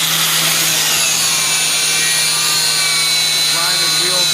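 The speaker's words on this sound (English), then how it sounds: "Grind it real good." A wheel being ground in a repair shop during flat repair and corrosion work, giving a steady, loud, high-pitched grinding whine that runs continuously throughout with a constant low hum beneath.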